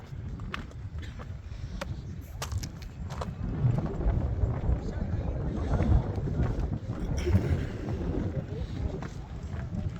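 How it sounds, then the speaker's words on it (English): Strong gusts buffet the microphone on the hilltop at Tel Megiddo, Israel, a loud, continuous low rumble that swells and eases, with someone talking faintly underneath. "I hope that you can hear something because the wind is so strong."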